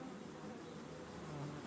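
Bees on the Greek island of Samothraki buzz in a steady, dense hum, a close swarm droning without pause.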